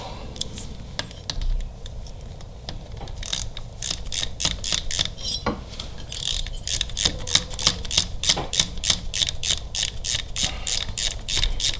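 A bolt being run down with a ratchet on a Harley-Davidson Milwaukee-Eight engine during a cam install, rapid clicking ratchet strokes in a steady close series, growing denser and louder, with no talk.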